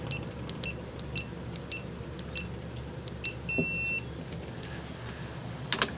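ONNAIS Guard smart RV door lock keypad sounding a string of short, faint high beeps in a steady rhythm, then one longer beep, over low background hum, no talk.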